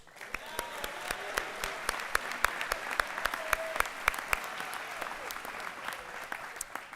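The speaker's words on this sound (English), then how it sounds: "please join me in a round of applause for the following students" A commencement ceremony audience at a private academy gives steady, moderately distant applause, with individual hand claps standing out sharply against a continuous wash of clapping.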